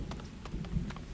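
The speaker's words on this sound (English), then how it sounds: "Moderate temperatures, light breeze, and apparently a light rain." Light rain in the video game Farthest Frontier, a soft steady patter with a low rumbling bed, faint and brief, no voices.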